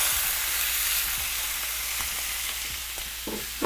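Skin-on chicken breast searing skin side down in a warm pan, a steady loud sizzle and hiss throughout, with a few faint knocks near the end.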